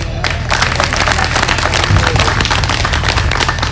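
At a Haryanvi comedy show, the crowd breaks into loud, dense clapping that runs without a break, close and energetic, with a busy spread of hand claps filling the space.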